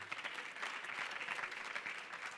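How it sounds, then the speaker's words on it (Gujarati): Applause from an audience at a religious gathering welcoming a guest, a steady soft patter of many hands clapping, fairly distant and continuous throughout with no pause. "ચાલો તાળીઓથી વધાવો ધરમભાઈને."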